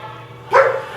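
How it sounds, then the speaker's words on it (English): A single short, close dog bark sounds abruptly in a home kitchen during holiday cookie baking, breaking over a quiet steady background hum. "doggies are barking"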